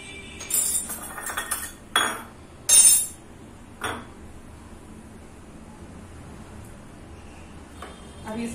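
A metal spoon scrapes and knocks inside a coconut shell while prying out the flesh, giving several short scratchy bursts and clinks in the first four seconds, then near quiet.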